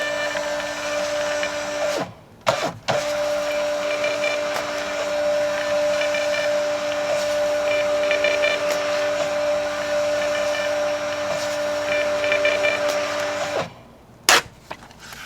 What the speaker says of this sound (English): I'm excited to show you guys how the thermal printer prints